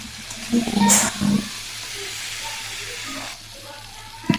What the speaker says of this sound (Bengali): ভালোভাবে মশলাটাকে আমি কষিয়ে নেব আলুর সাথে